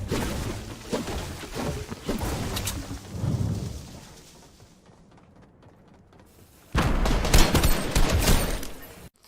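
Assault rifle in Fortnite fired in single shots, a burst of sharp cracks layered over dense game noise, then a quieter lull before loud gunfire resumes.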